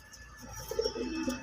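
A pigeon, one of the white Tula breed, gives a soft low coo at close range against a quiet background with faint chirps.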